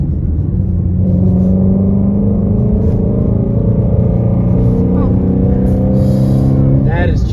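A 2017 Shelby GT350 Mustang engine accelerates with a loud, deep rumble whose pitch climbs steadily through the gears, heard from inside the car with a voice briefly overlapping.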